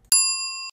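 One bright notification bell ding, a sharp metallic strike that rings with a sustained tone for about half a second before cutting off, clean and close with nothing else around it.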